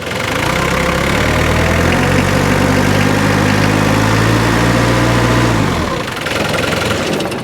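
A car engine that was slow to start revs up loudly and holds at raised speed for several seconds, then drops back toward idle near the end, with a belt noticeably flapping around under the hood.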